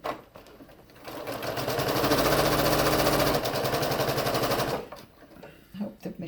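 Sewing machine stitching a log cabin quilt block, its motor ramping up into a fast, steady mechanical whir that runs for a few seconds and then stops, with faint handling sounds around it.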